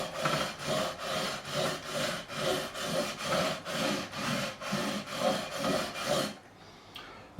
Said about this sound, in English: 2x1 steel box section, both edges milled flat, 240 grit that side, 400 grit that side. Just going to go over 400 grit.